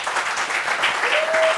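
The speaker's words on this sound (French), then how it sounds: "Applaudissements, s'il vous plaît, applaudissements." Audience clapping to welcome a guest at a gathering in Abidjan, a brief, fairly loud burst of steady applause with a faint tone sounding partway through.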